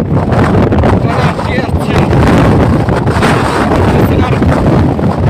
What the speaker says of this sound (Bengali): কি পরিমাণ বাতাস